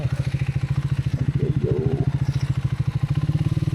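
A motorbike rides a tree-lined forest road at dusk, its engine thumping in a loud, steady pulse close by with a faint clatter over it and no talking.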